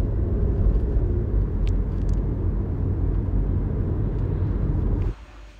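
A 2.0-litre Renaultsport Clio 200 Gordini idles with a steady low rumble, heard close up for several seconds before the sound cuts abruptly near the end.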